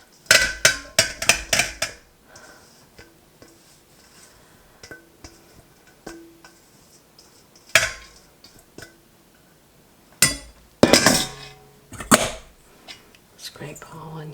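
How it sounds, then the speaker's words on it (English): A spoon scrapes and knocks against a pot while cooked apples for homemade applesauce are scooped out, with clustered sharp clinks at the start, scattered taps, and a burst of scraping toward the end. "Again, I'm going to scrape all of this out."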